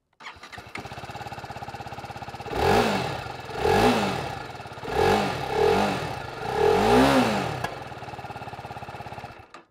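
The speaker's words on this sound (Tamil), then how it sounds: "இப்போ நான் வந்து எக்ஸாஸ்ட் ஆன் பண்ணி காட்டுறேன்." A TVS Apache RR 310 sports motorcycle starts and idles, then its exhaust barks through four separate throttle blips with the revs rising and falling, close and loud, before the engine cuts off.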